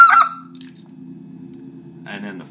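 A waterfowl call is blown to imitate a speckled goose, giving a short, sharp, high note and then a lower, gravelly rattling tone that drones on. A second brief burst follows, close and clear, with no talking.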